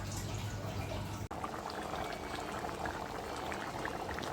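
Goat head curry boils steadily in a pot, a dense, continuous bubbling and popping that stays close and even throughout, with no voices.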